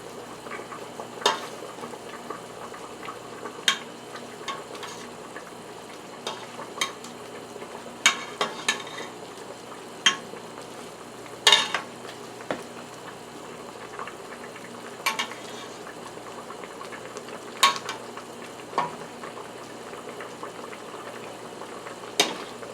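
Chicken dumplings frying in a pan, a steady low sizzle and bubbling broken by scattered clinks and scrapes as they are flipped, fairly quiet and close.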